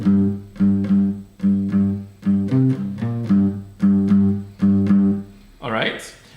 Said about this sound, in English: So here is how you play the main riff